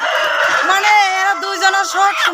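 Tiger chickens on a poultry farm, with a rooster giving a long, close, loud crow and clucking around it. No one speaks during it.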